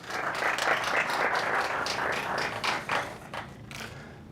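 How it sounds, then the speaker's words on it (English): Applause from a tech meetup crowd, moderately loud and fairly brief, thinning into a few scattered claps toward the end. "Round of applause for Campus AI."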